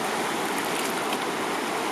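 Water rushes and sloshes steadily in a stream where a gold pan is worked, a dense continuous wash of broadband noise with no distinct splashes standing out and no voices.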